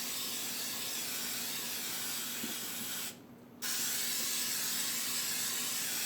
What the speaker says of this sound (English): And what it is, it's a spray with flour.